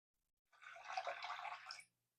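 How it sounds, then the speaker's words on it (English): Water from a cup is poured into a slow cooker holding a pork roast, a short, soft, steady trickling splash lasting about a second and a half and heard alone in quiet surroundings. "A little bit of liquid. I'm just using a little water."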